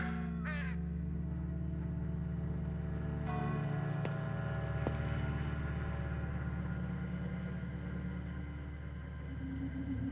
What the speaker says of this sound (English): Large black crows are watching me.